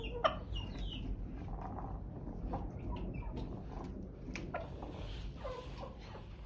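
Chickens in a backyard coop, including a hen and a rooster of an Indian breed, give soft scattered clucks and brief calls over a low, steady background, all fairly faint.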